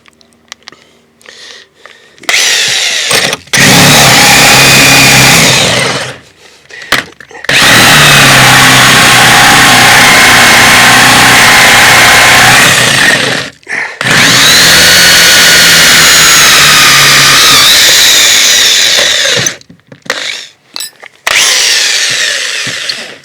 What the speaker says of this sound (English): This is a really old drill. Dates back to 1986 and it's still going.